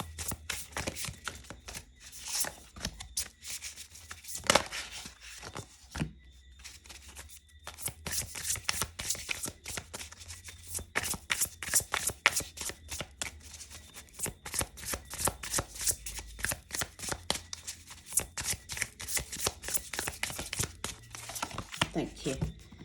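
Tarot cards are shuffled close by in long runs of rapid riffling and flapping, with brief pauses between passes and a voice speaking over part of it.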